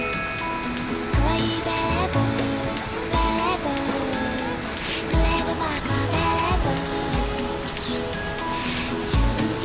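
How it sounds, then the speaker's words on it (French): A waterfall at Nikko, Japan, roars as a broad, continuous rush of falling water, close and steady, with faint voices and other sounds mixed in. "Je suis ravi d'avoir aperçu au moins un bout de la cascade."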